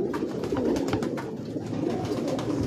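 A flock of pigeons coos nearby, a dense continuous low murmur of overlapping calls with no voices over it.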